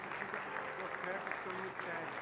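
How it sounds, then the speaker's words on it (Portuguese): Faint, distant applause from a church congregation, a soft wash of clapping sitting low in the room for a couple of seconds. "Uma salva de palmas para este homem de Deus"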